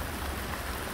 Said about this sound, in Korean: 비가 계속 올 비는 아닌 것 같고 잠시 스쳐 지나가는 비 같은데